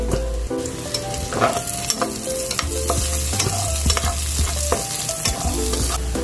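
A white onion sautés in a hot pan with a continuous sizzle, while a spoon scrapes and stirs repeatedly, producing close, clattering strokes with no talking.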